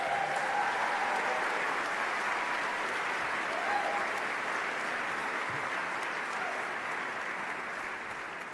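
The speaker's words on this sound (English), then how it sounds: "I think that deserves another round of applause" Sustained audience applause at the 20th annual IGF indie game awards ceremony, a broad even wash of many hands clapping that holds steady and tapers slightly at the end.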